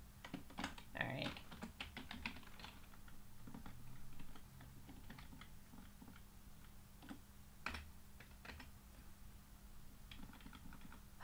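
Keyboard typing during a live coding session, a quiet run of irregular clicks and keystroke bursts at close range, densest near the start and recurring sparsely throughout.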